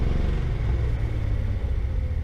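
A Datsun 280Z engine runs with a steady, rough low rumble right after new fuel injectors were fitted, close and continuous with no speech over it.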